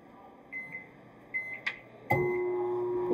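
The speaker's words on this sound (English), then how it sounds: "put it in the microwave for 75 seconds." A microwave oven with a blue mug inside gives a few soft beeps and clicks, then starts up with a steady, close humming drone that continues to the end.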